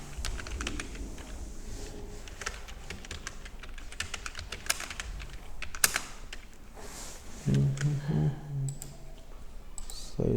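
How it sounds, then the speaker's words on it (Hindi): Typing on a computer keyboard while entering a line of text in WordPad, with steady clicking keystrokes throughout and a brief low hum or voice near the end. "इसमें हम एक कोई लाइन टाइप कर लेते हैं"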